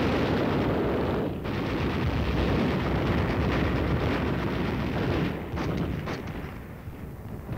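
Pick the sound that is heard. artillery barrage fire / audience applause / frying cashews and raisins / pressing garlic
artillery barrage fire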